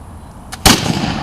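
A single loud, sharp blast from an old black-powder firearm at a living history weapons demonstration, preceded by a brief softer crack, with the report ringing out and trailing into outdoor ambience.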